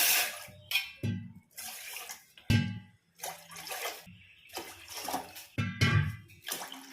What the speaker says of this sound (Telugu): స్టవ్ వెలిగించుకొని ఇప్పుడు వాటర్ పోసుకోవాలి.